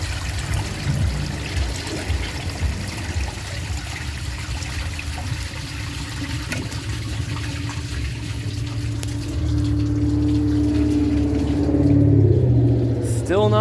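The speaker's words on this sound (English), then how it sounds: "There's kind of water running everywhere right now." Water runs and trickles steadily from a clogged, overfilled toilet tank with the fill valve removed, a close, continuous splashing flow that gets louder and fuller near the end.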